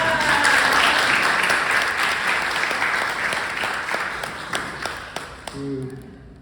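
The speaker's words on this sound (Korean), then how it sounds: "그런 의미에서 우리 사회자님 박수 한번 쳐주세요." Audience at a book talk on a wildflower field guide breaks into steady applause that is loud at first, then gradually thins and fades, ending with a few scattered claps and a voice starting to speak.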